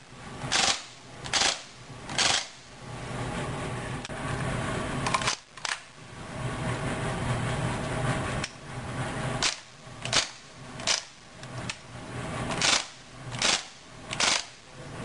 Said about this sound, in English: It also has realistic blowback action in the bolt.